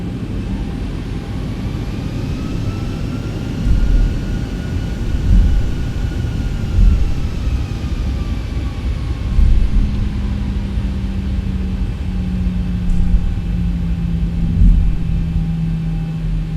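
Airliner takeoff in the X-Plane 11 flight simulator, heard as a steady loud engine roar and low rumble with a faint whine rising over it and a low drone entering later, continuous throughout, with no talking.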